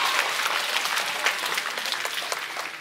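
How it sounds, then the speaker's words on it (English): Audience at a school talent show applauding a Year 6 dance performance, with loud, dense clapping and scattered sharp individual claps running continuously, gently tapering toward the end. "Let's give Year 6 a huge round of applause for their amazing dance and opening again this afternoon."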